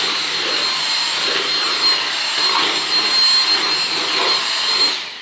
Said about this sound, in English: let's give the Dyson a go on its lowest setting